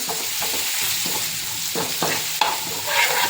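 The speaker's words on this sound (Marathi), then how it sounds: "हे तेलात छानपैकी ब्राऊन होऊपर्यंत भाजून घ्यायचं आहे" Chili paste frying in oil until brown, a constant close sizzle with several sharp taps and scrapes of a spoon stirring in the pan.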